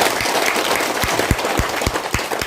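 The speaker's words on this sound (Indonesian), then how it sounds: "Sama-sama kita tepuk tangan dulu untuk tim yang bersama-sama" A crowd applauds, with a broad wash of clapping and a few louder, distinct claps standing out near the front.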